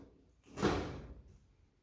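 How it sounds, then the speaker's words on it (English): A Ford Model A car door opens in one rough, scraping and clunking movement near the mic. It swells quickly and fades within about a second, with quiet room background before and after. "This is how you open the door right now."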